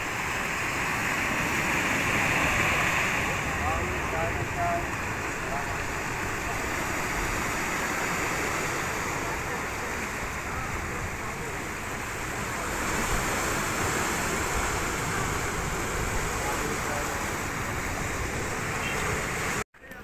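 Sea waves wash steadily along a seaside promenade in Turkey, a continuous broad surf roar with wind noise, fairly loud and unbroken throughout.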